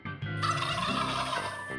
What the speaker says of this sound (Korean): 이거 칠면조야?